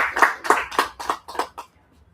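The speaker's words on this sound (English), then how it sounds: "Let's give him a big round of applause." Brief scattered clapping from an open mic audience, about six separate bursts over two seconds that fade out, no voices.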